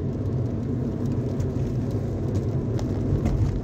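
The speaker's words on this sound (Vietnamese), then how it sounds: "Mưa ha, trời mưa ha." Rain while driving on an expressway near Ho Chi Minh City: a steady, dense low rumble of car and road noise with a soft wash of rain and faint scattered taps throughout.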